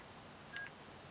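A single short keypad tone from a cell phone sounds faintly once amid steady hiss, with the caller standing under a building in the mountains.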